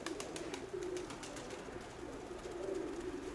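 Low, continuous pigeon cooing comes from a hen pigeon in a loft, with a burst of short clicking or fluttering sounds at the start, all near and moderately loud.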